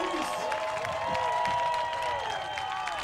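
A concert crowd at a show in Miami applauds and cheers steadily, the clapping and shouting blending into a sustained roar with tonal music or voices ringing above it.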